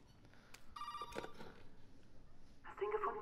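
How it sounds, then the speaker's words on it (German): In the video game Resident Evil 7, a telephone rings in short electronic bursts, two separate rings at moderate distance, while someone talks faintly underneath. "Telefon."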